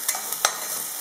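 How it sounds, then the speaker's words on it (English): Finely chopped onions sizzling in a hot pan for a spicy chicken curry, a steady close hiss with a few soft stirring clicks and no talk. "Now I'm adding all the chopped onion."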